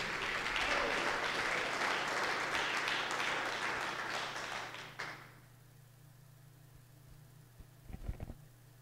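A church congregation at a Bible study breaks into dense, loud applause that fills the first five seconds, then cuts off abruptly into near silence over a low hum, with a couple of brief taps near the end.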